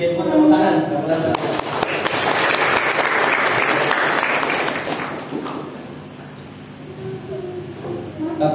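Applause from an audience at an Indonesian talk or seminar, a dense crackling wash of clapping sustained for about five seconds before tapering off under a faint murmur.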